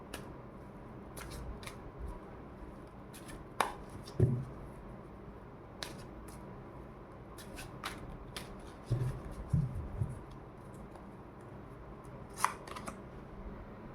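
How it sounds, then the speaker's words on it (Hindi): Tarot cards are shuffled by hand, a soft, scattered run of quiet riffles and flicks with a few louder taps, close and faint against a quiet room with no speech. "चलिए, ये तो ऐसे ही फिर से एक बार और शफल करते हैं।"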